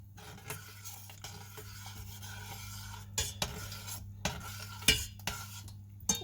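A spoon scrapes and taps against a pot while stirring a sauce thickened with bread, soft irregular strokes over a low steady hum, quiet and close.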